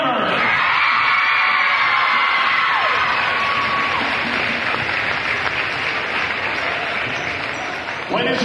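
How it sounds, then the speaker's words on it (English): A gym crowd at a middle school conference basketball championship breaks into loud, sustained applause with cheers, whoops and shouting children, close and continuous throughout. "a big round of applause for these ladies' teams who fought hard to get where they are"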